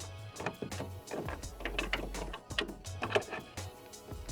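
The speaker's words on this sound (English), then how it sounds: "go ahead and remove the socket for the low beam" Plastic clicks and a short scraping twist as the low beam headlight bulb socket is pulled from a Honda Civic headlight housing, a few quiet close-up knocks and rattles with a low hum underneath.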